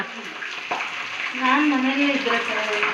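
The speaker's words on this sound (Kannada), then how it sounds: "ಇದರಲ್ಲೇ ನಾನು ಮೊಟ್ಟೆ ಎಲ್ಲ ಮಾಡ್ಕೊತೀನಿ ಈ ಸ್ಪೂನಲ್ಲೇ ಮೊಟ್ಟೆ ಮಾಡ್ಕೊಳೋದು" An egg frying in a spoon sizzles steadily and close up, with a soft voice murmuring over the crackle partway through.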